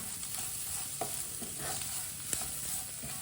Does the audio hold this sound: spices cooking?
yes